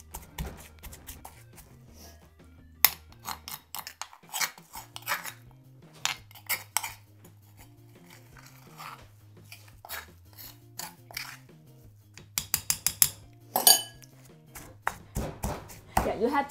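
Red Thai curry paste with shrimp paste being pounded in a mortar, irregular sharp knocks in bursts, some quick clustered strikes, close and fairly faint, over a quiet background of low music.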